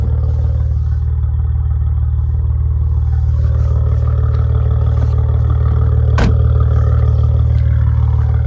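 A 2014 Maserati Ghibli S Q4 idles steadily nearby, its engine and exhaust giving a continuous low rumble with faint clatter, and one brief sharp click partway through.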